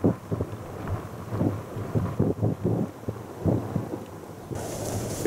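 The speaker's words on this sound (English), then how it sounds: "It sure is a windy one today," Strong wind gusting across open moorland in the Peak District, buffeting the microphone in loud uneven bursts of low rumble, with a brighter hiss toward the end.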